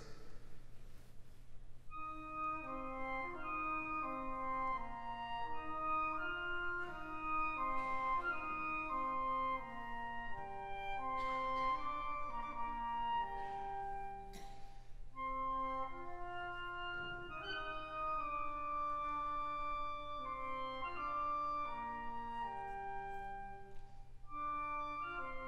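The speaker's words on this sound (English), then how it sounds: "combines it with the highest standard version of a low instrument, the piccolo clarinet, and it sounds like this." Alto flute and piccolo clarinet play an interweaving folk melody from Stravinsky's The Rite of Spring, clear and steady throughout with no voices, a soft low hum sitting underneath.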